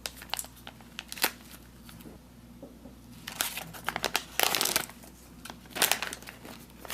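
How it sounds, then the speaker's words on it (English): Plastic-foil wrapper of an XMRE mini chocolate chip cookie packet being cut open and handled, with sharp crinkling bursts and rustles at close range, no talk. "these don't have a tear notch on them, so you actually have to cut these open"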